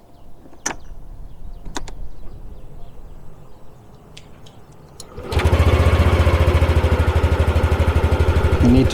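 A 2021 Yamaha NMAX scooter sits quiet with a few faint clicks, then its engine starts abruptly and settles into a loud, steady, close idle hum.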